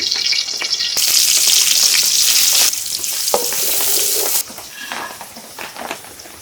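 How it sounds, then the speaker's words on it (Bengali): Chopped onion frying in hot oil for a Bengali dish, a loud, steady broadband sizzle that surges harder for a few seconds, then eases back to a lighter crackle with occasional stirring taps. "তেলটা গরম হলে আমি পেঁয়াজ গুঁড়া দিয়ে দিই পেঁয়াজ কুচি"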